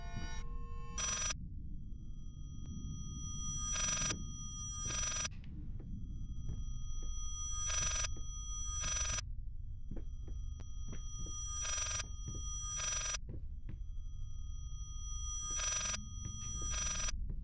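A telephone rings inside the Layers of Fear horror game: bright, sharp bursts of electronic bell tone repeat in evenly spaced pairs over a low, throbbing ambient hum, close and clear with no talking.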